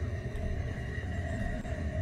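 A low, steady mechanical train engine drone in the game The Final Station, with a rumbling bed and faint tonal whine, continuous and fairly quiet throughout.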